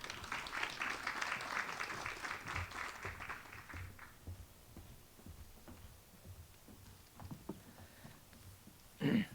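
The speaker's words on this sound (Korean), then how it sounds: "박수로 맞이해 주시기 바랍니다." Audience applause at a Gwacheon citizens' debate forum on urban development welcoming the city mayor; a burst of clapping that fades within a few seconds, leaving scattered claps and room noise, then a brief thump at the end.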